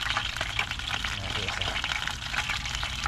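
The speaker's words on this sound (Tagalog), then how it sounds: "Sarap ng pagkaprito niya, crispy." Close, continuous crackling and sizzling of shrimp frying crisply in hot oil at a campsite, dense and steady throughout with no voices.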